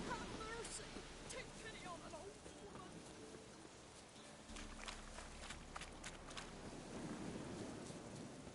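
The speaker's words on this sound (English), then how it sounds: "Lightning strike." Rain and thunder in the video game The Witcher 3: Wild Hunt: a steady wash of rainfall with low rumbling thunder and scattered sharper cracks and impacts, continuous throughout, with some speech-like sounds in the mix.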